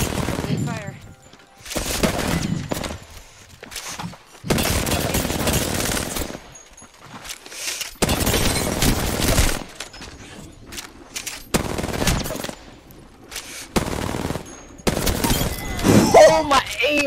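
Bursts of automatic gunfire from a one-on-one video game match come in repeated loud sustained volleys separated by short gaps, with players talking between them.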